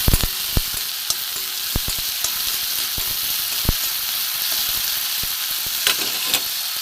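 Chopped onion and tomato fry in a pan, hissing steadily up close, as a spatula stirs them with sharp, irregular taps and scrapes against the metal.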